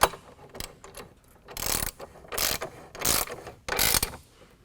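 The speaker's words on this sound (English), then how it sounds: "now we're going to take our 17 millimeter, make sure that all of our hardware is tightened up on both brackets" Ratcheting of a 17 mm socket wrench tightening running board bracket bolts on a 2011 Jeep Grand Cherokee, four close bursts of rapid clicking separated by short pauses, with no talk.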